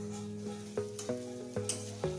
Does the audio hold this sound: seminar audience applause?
no